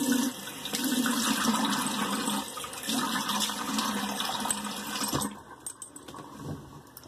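Cold water runs steadily from a bathroom tap for a post-shave rinse, a loud, close rushing stream that carries on for about five seconds before cutting off into a few faint drips and clinks.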